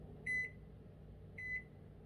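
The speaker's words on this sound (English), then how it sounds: "we're going to stand it up in the microwave for about 10 to 15 seconds" A microwave oven softening cookie dough gives two short, clear electronic beeps about a second apart, fairly faint over a low kitchen hum.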